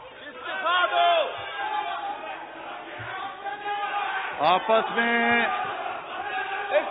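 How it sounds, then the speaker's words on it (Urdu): Members of the National Assembly chant slogans together, a loud rhythmic chorus of many voices in a large hall, with shouting and crowd noise rising and falling throughout. "آپس میں نعرے بازی نہ لگائیں"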